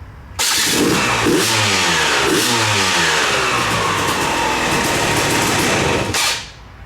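A Yamaha YZ250 dirt bike fitted with an electric start and case vent revs hard on a frontage road, one loud, continuous engine note that climbs and falls through repeated throttle pulls and then cuts off sharply at the end.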